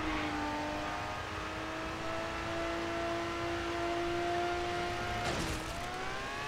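A car engine in the video game Crackdown 2 drones steadily as the vehicle drives, its pitch slowly climbing before a sudden rough burst near the end, all loud and close with no talking.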